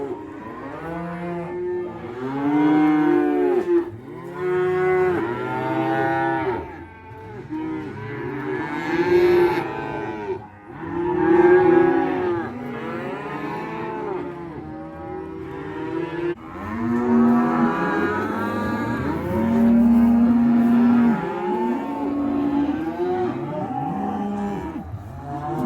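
Cattle at a livestock auction, including a beef bull and Holstein heifers, moo loudly and almost continuously, with long overlapping bellows from several animals close by.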